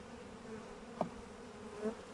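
Honey bees give a soft, steady, faint buzzing drone at an opened beehive during spring inspection, with a light tap partway through and no talking.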